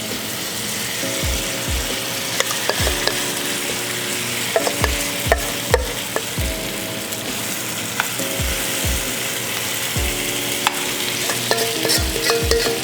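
Korean vegetable pancake (pajeon) batter frying in hot oil gives a loud, continuous sizzle, punctuated by repeated sharp clacks and scrapes of a utensil, with a steady tonal hum running underneath.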